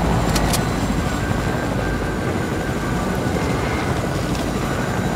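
Steady broadband rotor and engine drone of a helicopter flying in Fortnite, loud and continuous with no clear breaks, with a couple of brief higher clicks near the start.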